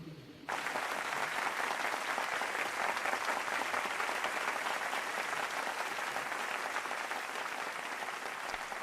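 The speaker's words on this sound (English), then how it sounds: "Just keep clapping, maybe they'll leave." Applause breaks out after a brief quiet moment and then carries on as a dense, steady wash of many hands clapping at a constant level.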